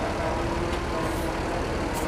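A Mercedes-Benz OH 1526 bus with a Laksana body at the Kampung Rambutan terminal gives a steady, continuous engine rumble with broadband noise, close and unbroken throughout.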